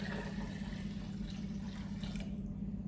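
Water is poured from a pitcher for a pickling brine, a continuous steady splashing stream into a pot or container, close and even in level, with no talk over it.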